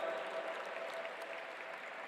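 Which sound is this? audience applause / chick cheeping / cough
audience applause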